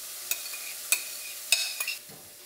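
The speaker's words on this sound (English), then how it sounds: "Now that the salmon is almost done, I'm gonna add the rice." Cooked rice goes into a pan with frying salmon, a spatula scraping and tapping in four or five quick strokes over a soft sizzle, close and alone.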